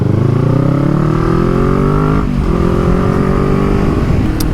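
Kawasaki Z650 motorcycle engine while riding, a loud, close onboard drone that climbs in pitch through the gears, dips briefly during a shift, then pulls steadily again, with no talk.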